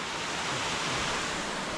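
A waterfall in Clifty Canyon in the Sipsey Wilderness, Alabama, gives a steady broadband rush of falling water, close and even, with no voices.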